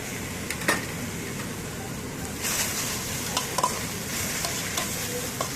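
Chopped country tomatoes sizzling steadily in a hot pan for samba wheat upma, a continuous close frying hiss with occasional stirring scrapes and clicks, no talk.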